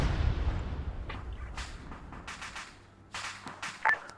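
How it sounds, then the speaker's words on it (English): Rockets launched near an entrance in a military game, arriving as a few sharp, separate cracks and whooshing bursts over a low rumble that fades, with a louder pair of hits near the end. "Gonna pop some rockets over by the entrance"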